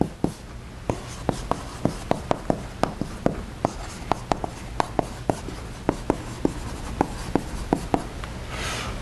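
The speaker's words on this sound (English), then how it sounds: "And I'll write this relation in this form." Handwriting an equation, likely with a marker or chalk on a board, produces a string of sharp, close taps and short scratchy strokes in an irregular rhythm, over a faint steady room hum.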